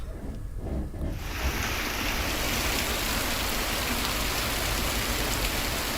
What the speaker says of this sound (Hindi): जशपुर, बिलासपुर और मुंगेली में झमाझम बारिश हो रही है।